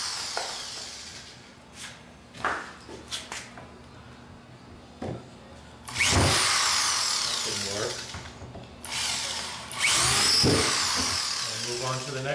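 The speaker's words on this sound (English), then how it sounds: "And fasten it in with my drywall screw." A power drill drives a drywall screw into wood, giving several short whirring bursts of varying length. A few bursts are loud and close, and quiet gaps fall between them, with a person talking in and around the drilling.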